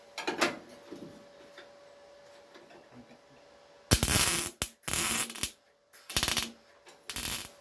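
Welding on a door pillar panel of a Ford Escort MK1 under restoration produces several loud, close bursts of harsh crackling buzz, each lasting under a second, separated by quiet gaps.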